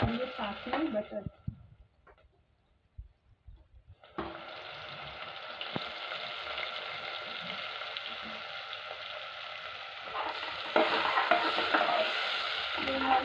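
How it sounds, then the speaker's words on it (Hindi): Onions, green chillies and butter frying in a pan, opening with a few clatters and a brief lull before a steady close sizzle takes over and grows louder toward the end. "गाइस अब हम डालेंगे प्याज, हरी मिर्ची और ये साथ में बटर।"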